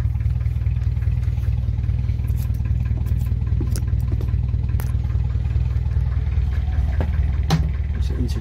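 A diesel engine idles with one misfiring cylinder, a steady low rumble running throughout with faint ticks and clatter on top and no talk.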